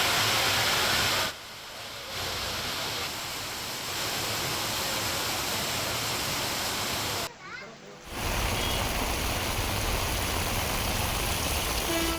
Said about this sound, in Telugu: కొన్ని ప్రాంతాల్లో ఎడతెరిపి లేకుండా వర్షం కురుస్తుండగా మరికొన్ని చోట్ల భారీగా పడుతోంది